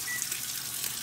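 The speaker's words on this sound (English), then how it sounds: "Notice that sizzle. Doesn't that sound good?" Steady, close sizzling and crackling of bacon frying in a hot pan, a continuous hiss with no talking.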